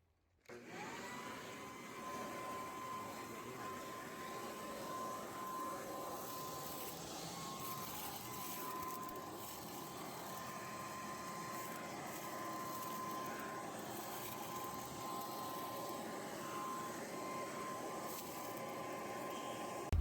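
A vacuum cleaner switches on and runs steadily with a constant whine and airy roar, close by, with no voices.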